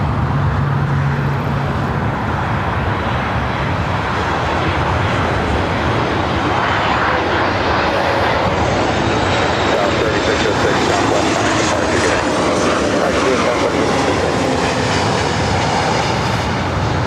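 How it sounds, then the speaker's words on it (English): Airbus A321neo airliner roaring loudly and continuously close by at LAX, a dense broadband jet engine rumble with a rising whine layered over it. "A321 Neo"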